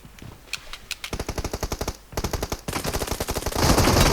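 Rapid automatic gunfire from PUBG Mobile, loud and close, crackling in sustained bursts of evenly spaced shots with short pauses, then a denser continuous volley near the end.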